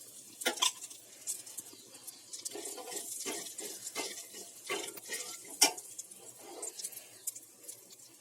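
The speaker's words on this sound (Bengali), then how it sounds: "এবার এই গরম তেলের মধ্যে দিয়ে দিচ্ছি আমি কালো জিরা।" Black cumin seeds sizzle softly in hot oil left from frying fish, a faint, crackling spatter with scattered sharp pops and stirring scrapes throughout.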